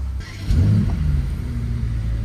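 Ferrari 812 V12 engine catching after ignition with a low rumbling surge, then settling into a deep, steady idle that hums evenly to the end.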